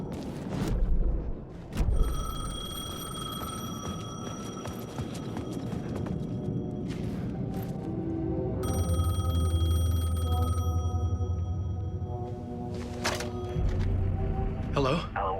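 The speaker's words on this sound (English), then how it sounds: "The payphone was ringing." A payphone rings in the horror game Alan Wake 2, repeated bell-like ringing tones sounding over a dark ambient game soundscape with low rumbling, fairly prominent and sustained.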